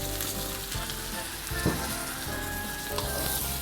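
Shrimp stir-fried in a pan with chili and garlic, a loud, steady close sizzle with scraping stirs and a brief spatula clatter midway, no voices.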